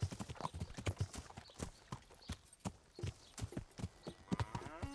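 Horse hooves plod through mud in a medieval open-world game, a brisk, uneven clip-clop of soft squelching thuds close by, with a faint metallic jingle near the end.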